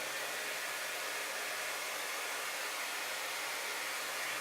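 A handheld blow dryer running on its highest heat setting gives a steady, loud, airy roar that holds without change the whole time, with no voices over it.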